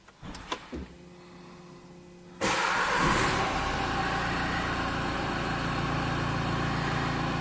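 The 1.5 dCi diesel engine of a 2016 Renault Kadjar idles quietly, then its revs rise sharply and hold at a loud, steady roar with a broadband rumble.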